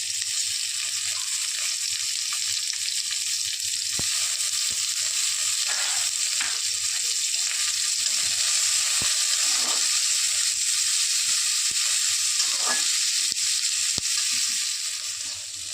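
Onion fries with potato in a pan while being stirred, giving a continuous close hissing sizzle with occasional scraping stir strokes over the whole stretch.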